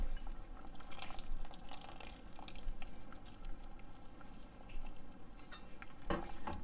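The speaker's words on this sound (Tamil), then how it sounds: "நம்ம கரைச்சி வச்சுருக்கிற புளியை வந்து இந்த டைமில் இப்போ சேர்த்துக்கலாம்" Dissolved tamarind water is poured into a pot of sambar with cooked vegetables, giving a steady, close liquid splashing and dripping that runs continuously throughout, with no talking.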